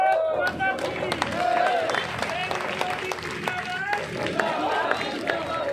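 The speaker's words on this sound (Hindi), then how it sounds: "एक बार सारे खड़े होकर ताली बजा दो भाई" A political rally crowd at a municipal chairman candidate's event claps together, dense steady applause running the whole stretch, mixed with shouting voices and babble.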